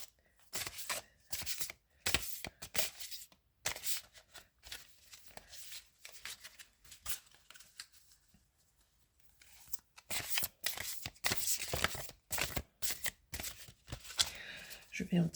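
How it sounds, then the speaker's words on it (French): Tarot cards from a large Belline deck being shuffled, with repeated quick riffling and papery slaps in bursts, close and fairly loud, pausing briefly midway, while someone talks over parts of it. "J'ai juste envie avec mon grand Béline, mon grand tarot Béline."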